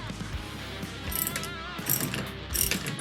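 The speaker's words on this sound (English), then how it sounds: "now I'm going to torque this Nylex nut back up" A ratchet wrench tightens a nylon lock nut on a push rod during motion simulator maintenance, giving a close, loud run of rapid clicking pawl strokes in several short bursts, with no talk.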